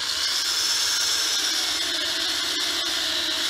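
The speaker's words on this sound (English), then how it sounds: "let's do our pilot holes real quick" A power drill bores pilot holes into the soft, partly rotten wood of a Langstroth beehive box, giving a continuous high whirring grind close by and at an even level.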